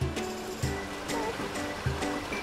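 Water flowing beside a pond with ducks, a continuous rushing wash with a few soft splashy knocks rising through it at close range.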